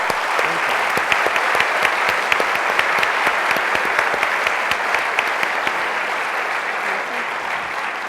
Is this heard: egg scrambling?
no